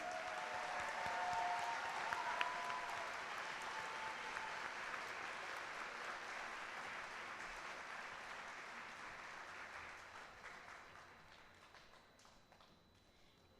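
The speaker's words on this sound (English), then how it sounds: "let's give the Seoul American Elementary School kindergarten and first grade classes another round of applause" A school audience applauds kindergarten and first grade classes at a closure ceremony, a long, steady wash of clapping that slowly thins out toward the end, with no talk over it.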